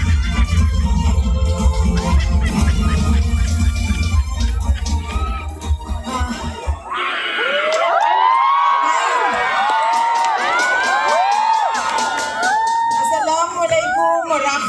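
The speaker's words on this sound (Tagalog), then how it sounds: "Pabayaan mo na sumigaw ang tao." A large rally crowd cheers, whoops and shouts loudly for the Vice President, the roar swelling after an announcer's amplified call and continuing with overlapping voices.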